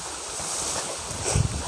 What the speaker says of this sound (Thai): ลมแรงเลยเพื่อนๆลมแรง